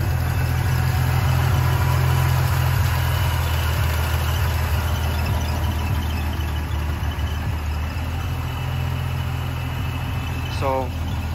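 A turbocharged 300 straight-six engine idles steadily and evenly at close range, a low constant rumble throughout with a brief faint squeak near the end.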